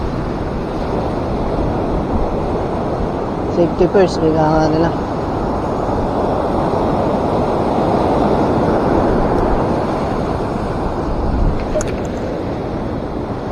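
Loud, constant roar of strong surf crashing on the shore at Dingalan, with wind buffeting the microphone and a brief voice partway through.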